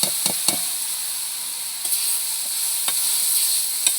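Ginger paste and ground spices fry in a wok (kadai) for temple-style bhog khichuri, a steady bright sizzle broken by a few sharp scraping stirs near the start and scattered later, close and alone.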